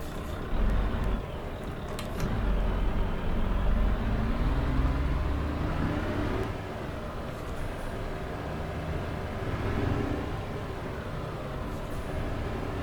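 Truck in Euro Truck Simulator 2 with ProMods Romania, engine started and running: a low, rumbling diesel drone that builds up and holds steady, with a few short hissing air bursts and clicks, and no talk over it.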